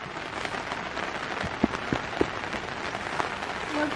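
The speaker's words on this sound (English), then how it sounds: "It's raining. It is raining," Steady rain patters on a tent at a campsite on the River Nile, with scattered louder drops landing close by. There are no voices, only the even wash of falling water.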